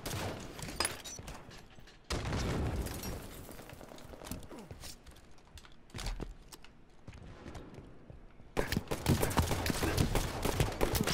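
Video game gunfire comes in bursts and long volleys over a dense, busy game mix, loud and continuous with a sharper intense stretch near the end.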